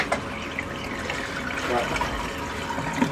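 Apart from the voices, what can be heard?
water running through laundry tub drain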